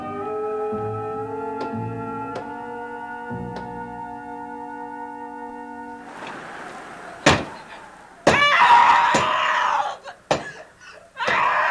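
Several heavy, separate knocks on a door in an old Dark Shadows TV drama scene, following a sustained musical tone and mixed with a loud, scream-like burst.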